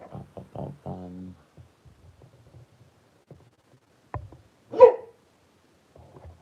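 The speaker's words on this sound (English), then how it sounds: "The dog's barking at the washing machine." A dog barks at a washing machine indoors: a short run of quick, close barks at the start, then a lone louder bark later, with quiet gaps and faint household noise between.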